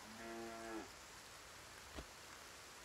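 Cow in the video game Force of Nature 2 lets out a short moo at the start, followed by a single soft thump, all over a constant hiss of rain-like ambience.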